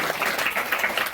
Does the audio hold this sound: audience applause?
yes